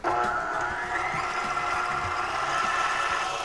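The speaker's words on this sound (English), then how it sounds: "Just gonna turn it on and whip it." An electric mixer whips heavy cream with sugar and vanilla in a kitchen, a steady, continuous whirring hum that runs loud and unbroken, with no talking.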